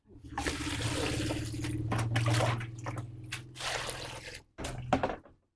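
Fresh vegetables being washed by hand in water in a home kitchen, a close, continuous splashing and swishing with a running-water rush that stops briefly, then resumes with a few sloshes.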